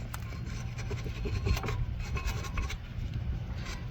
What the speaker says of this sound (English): I'm going to use a wire brush